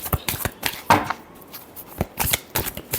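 Tarot cards are shuffled by hand in a quick, uneven series of close, crisp riffling bursts with short pauses, with no voice.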